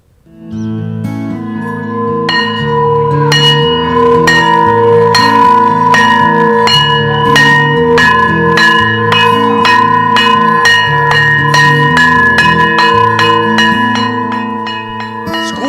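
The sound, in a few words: school bell ringing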